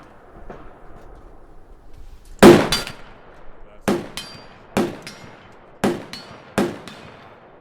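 Six sharp, loud rifle shots from a .308 rifle crack out at an outdoor shooting range, spaced roughly a second apart, each with a short ringing tail, after a few seconds of quiet background.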